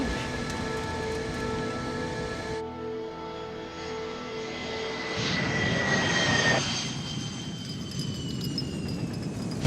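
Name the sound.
Avro Arrow jet aircraft making a 2G turn at Mach 1.5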